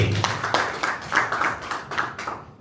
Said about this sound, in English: Can we have another round of applause there, please?